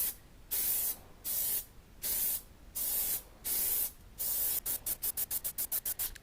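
Bursts of spray from an aerosol can coating a helmet with Plastidip, several long hissing passes followed by a quick run of short rapid spurts, close and clear.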